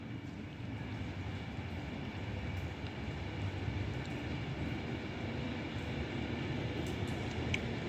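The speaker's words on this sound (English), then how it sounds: "Pendolino." A nine-car Pendolino train passing through Nuneaton station, heard as a steady, loud low rumble and rolling roar lasting throughout, with faint higher clicks over it and no talk.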